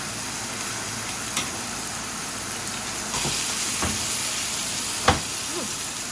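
Butter, about two tablespoons, melting in a hot cast iron skillet while filet mignon cooks, a soft steady hiss with a few sharp crackles and spits, fairly close and without talk.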